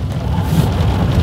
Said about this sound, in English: It is rainy, oh my goodness.